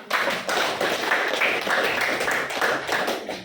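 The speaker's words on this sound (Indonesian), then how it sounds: "Oke, tepuk tangan buat Alma." Classroom of students clapping together, a loud, slightly ragged burst of hand claps with distinct individual slaps, fairly close and continuous.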